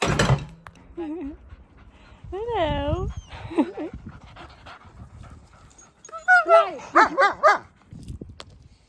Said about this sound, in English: I'm bringing my little dog with me